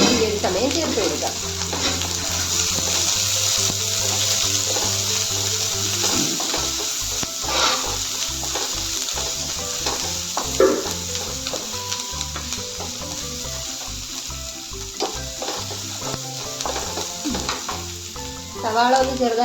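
Chopped onions and curry leaves sauté in hot oil in a pan, a steady bright sizzle with rhythmic spatula scrapes and stirring clatter running throughout, close and continuous.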